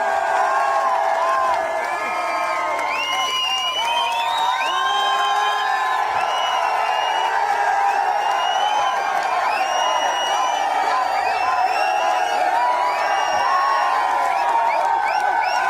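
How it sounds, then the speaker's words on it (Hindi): A crowd at a company achievers' gathering cheers loudly and steadily, with many overlapping shouts and rising whoops. Clapping is hard to pick out beneath the voices. "तो जोरदार तालियां, जोरदार हल्ले के लिए सर।"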